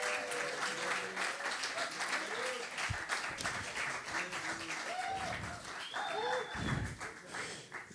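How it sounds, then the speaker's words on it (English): An audience claps enthusiastically for a young student steel pan player, a thick, continuous burst of clapping lasting several seconds, with scattered cheers and whoops and a few indistinct voices rising above it. "And please clap for Luke"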